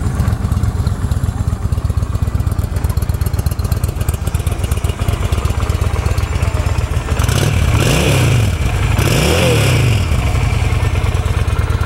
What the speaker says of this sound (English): We'll fire it off and let you give it a listen right quick. Cranks right up.